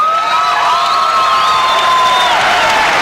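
A boxing crowd in northern Florida, near Pensacola, cheers at the Roy Jones Jr. vs. Eric Lucas fight: a steady, loud roar of many voices with shrill whistles sliding over it throughout.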